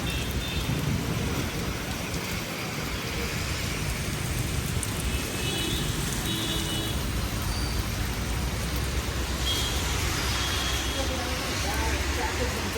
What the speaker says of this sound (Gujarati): મિત્રો આપણે ભાવનગરમાં ફૂલ વાવાઝોડું ને બહુ વરસાદ આવે છે